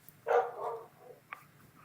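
A puppy gives a short burst of barking and whimpering, close and moderately loud, followed by a quieter yip, with no one talking.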